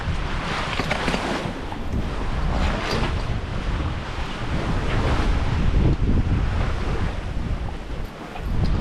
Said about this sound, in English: Nice breeze. The waves are less.